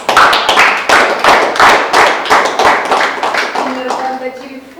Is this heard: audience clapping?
yes